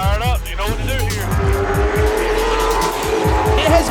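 A race car's engine growls close and loud in rapid, pulsing bursts, mixed with squealing tires, as the car starts up and revs.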